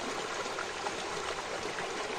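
Water flows and trickles continuously in an even, soft babble, heard alone without voices.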